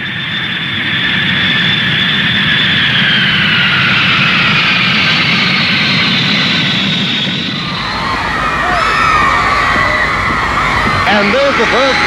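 An airliner carrying the Beatles lands in Victoria, its loud, steady jet roar and high engine whine filling the scene before the pitch and texture shift partway through as the plane comes down.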